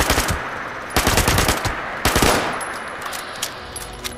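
Loud rapid bursts of automatic gunfire in the video game Fallout 76, three close clusters of shots followed by scattered single reports and fading echoes, with no talk.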